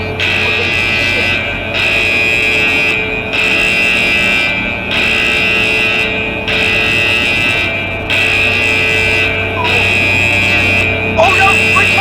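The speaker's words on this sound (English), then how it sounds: "There goes the general alarm." A ship's general alarm blares in Stormworks aboard an oil tanker in a snowstorm, a loud steady buzzing tone pulsing in long blasts with brief gaps, over rumbling background noise.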